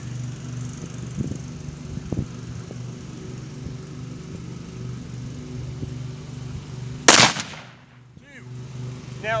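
A single sharp rifle shot from a Weatherby Vanguard in 22-250 cracks loudly in the open, followed by a fading echo, over a steady low engine hum and a few faint knocks.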